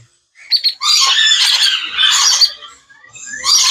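Pineapple conure parrots squawking close by in harsh, raspy bursts, several overlapping calls in quick succession with short gaps, loud and without talk.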